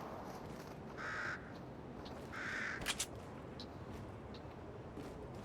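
Two harsh caws from crows in the Fortnite video game, spaced about a second apart at moderate distance over steady game ambience, followed by a short sharp bang and a few faint chirps.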